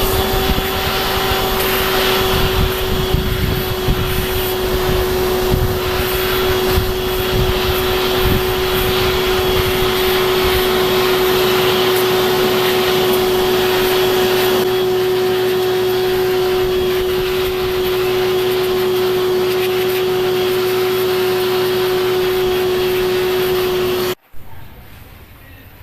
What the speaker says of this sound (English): I'm going to use the vacuum